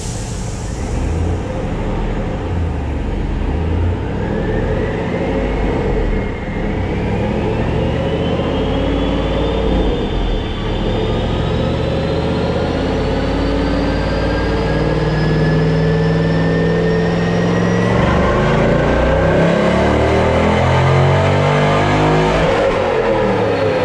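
A 1999 C5 Corvette with a six-speed manual roars on a dyno, the engine revving loud and steady as the pitch climbs through the gears in one long sustained pull, close and unbroken.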